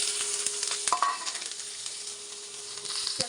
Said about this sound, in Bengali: পেঁয়াজ মরিচটা ভাজি